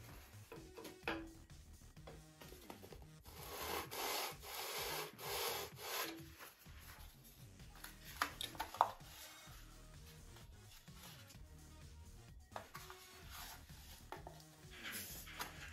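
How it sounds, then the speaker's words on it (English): Close, rhythmic rubbing strokes of sandpaper on wood as the sheeted wing of a .60-size Top Flite P-60E Warhawk model airplane is sanded, the back-and-forth scraping rising and falling in bursts with brief pauses between. "I'm going to sand a little bit."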